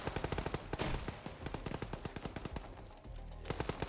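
Sustained automatic fire from a PKM 7.62 machine gun in a tactical shooter video game, a rapid, steady stream of loud, close gunshots with a brief lull before the firing resumes.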